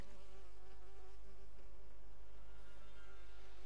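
A beehive buzzes in the video game LEGO The Lord of the Rings, a steady insect drone with layered humming tones that holds without break and with no talking.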